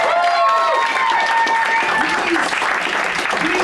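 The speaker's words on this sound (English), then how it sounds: "Let's give a big round of applause to our incredible contestants." Loud, sustained applause from a comedy club audience for the contestants, dense clapping with scattered cheers and voices running throughout.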